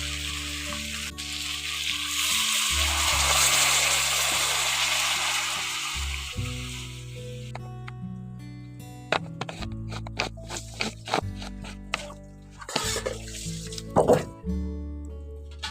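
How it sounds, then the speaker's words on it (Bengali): Water is poured into a hot pan of frying chicken and potatoes, the loud sizzle and hiss of the pour giving way to quieter bubbling and occasional clinks of stirring, with faint talk in places. "জলটা একটু বেশি করে দিয়েছি।"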